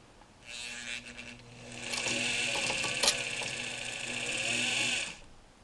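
A Singer 237 sewing machine runs steadily while winding a bobbin, its motor whirring with a bright mechanical buzz that swells louder midway, with a brief click near the middle.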